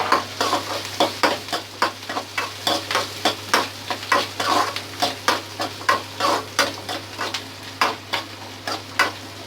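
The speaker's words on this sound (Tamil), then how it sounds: "இப்போ வெங்காயம் வதங்கிருச்சு." Chopped onions frying in a pan for Gobi Manchurian are stirred with quick, regular scraping strokes, about two per second, over a continuous soft sizzle and a low steady hum.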